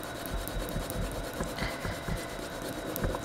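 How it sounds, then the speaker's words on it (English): Pencil rubbing and rasping steadily across paper while filling in a color wheel with a green base coat, a close, continuous scratchy scrape with small bursts of stronger strokes. "so we can kind of just color them all in"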